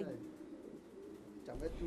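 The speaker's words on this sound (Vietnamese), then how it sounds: "Trại chim bồ câu của anh Nguyễn Tiến Toàn, xã Cộng Hòa, Quốc Oai, Hà Nội được làm trong phòng khép kín như thế này" Pigeons coo in an enclosed indoor pigeon farm near Hanoi, low soft burbling calls heard under a voice talking nearby.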